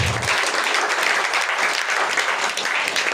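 A congregation claps at a church memorial service, dense continuous applause held steady throughout.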